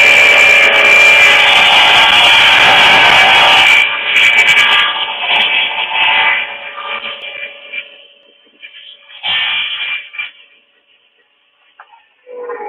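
A saw cuts through a wooden crosscut sled with loud, rough rasping and whirring that runs steadily for about four seconds, then tapers off into intermittent scraping and rubbing bursts before near silence.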